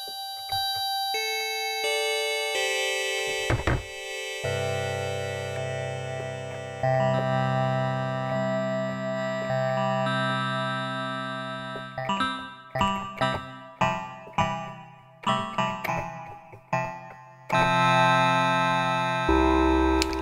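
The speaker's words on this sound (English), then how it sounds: "Poly Macro Oscillator 2. I should mention that's going through the clouds reverb as well" Disting NT Poly Macro Oscillator 2, a polyphonic Plaits-style synth voice, played through Clouds reverb: sustained chords with bright harmonics, then a run of plucked, percussive notes, ending on a low sustained tone.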